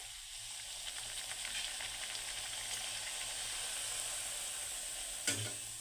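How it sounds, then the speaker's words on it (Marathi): Rajgira (amaranth flour) puris frying in hot oil, a steady close sizzle and crackle running throughout with a brief louder spatter near the end. "आता मी यांना तळून घेणार आहे तर पुऱ्या तळण्यासाठी तेल मी आधीच गरम करण्यासाठी ठेवलं होतं"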